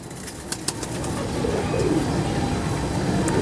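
Pigeons kept by a breeder coo in low, soft rolling calls, with a few sharp clicks or wing taps early on and a steady background murmur throughout.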